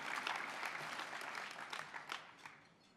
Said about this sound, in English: So please, a round of applause to honour them.